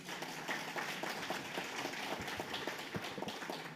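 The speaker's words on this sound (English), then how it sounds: "I love the applause" An audience at a Rotary Club meeting applauding after a presentation: dense, steady clapping from many hands, fairly close and continuous throughout, with no voices over it.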